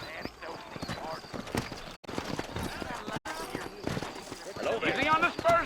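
Horse hooves clip-clop steadily in Red Dead Redemption, a rhythmic trotting pattern running beneath people talking, with the hoofbeats growing louder toward the end.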